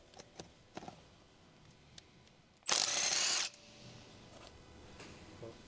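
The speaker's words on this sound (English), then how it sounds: "Use a large electric impact wrench to remove." A large electric impact wrench spins a lug nut off a 2014 Ford F-150 wheel, one loud close burst of under a second amid quiet clicks and handling.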